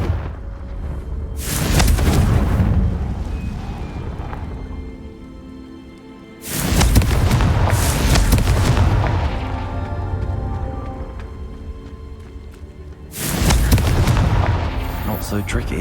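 Three heavy Confringo spell blasts boom in Hogwarts Legacy, each a sudden loud explosion rolling into a long fading rumble, spaced several seconds apart.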